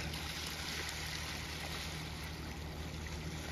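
Small wind-driven waves wash against the shore by a bait stand at sunrise, a faint, steady watery hiss with a low background hum and no voices.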